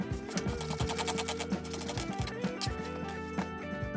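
A knife slicing a peeled onion into thin little strips on a cutting board, heard as a steady run of quick, close chopping taps with no talk over it.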